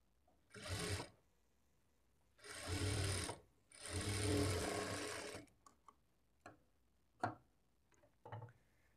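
A sewing machine stitches a frill onto a boutique-style blouse in three separate runs, the middle two longer, followed by a few sharp clicks and taps close by.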